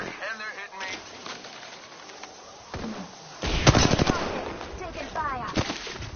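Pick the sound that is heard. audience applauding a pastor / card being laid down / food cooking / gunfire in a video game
gunfire in a video game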